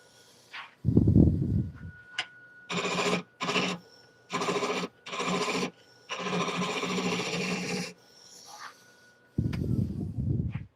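A carbide scraper cuts wood on a lathe in loud rasping bursts, several separated by short pauses, with a hum between passes.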